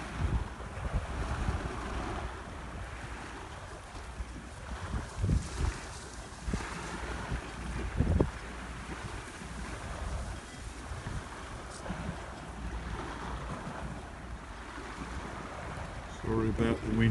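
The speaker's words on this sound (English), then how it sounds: "Sorry about the wind again." Wind buffets the microphone beside the water at Canvey Island, gusting and rumbling low and loud in uneven bursts over faint lapping, while someone talks at intervals.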